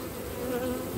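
Buckfast honeybee colony buzzing dense and steady right at an open hive, a continuous close drone of many wings with no voices.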